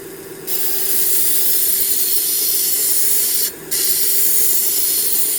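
A Vevor 1x30 belt grinder sharpens a knife blade with a loud, steady abrasive hiss, broken by one brief dip as the edge leaves the belt before the grinding resumes.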